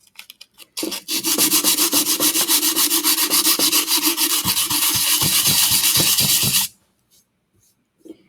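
Steady back-and-forth rubbing of 120-grit sandpaper across a wooden project, a close, loud gritty scratching with rapid regular strokes that runs for several seconds, then stops abruptly.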